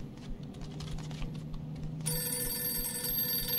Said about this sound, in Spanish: Y aquí está la llamada.